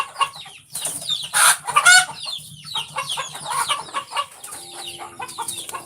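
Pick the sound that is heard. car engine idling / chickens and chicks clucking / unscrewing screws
chickens and chicks clucking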